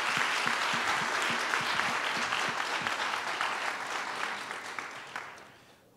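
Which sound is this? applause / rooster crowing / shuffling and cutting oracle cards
applause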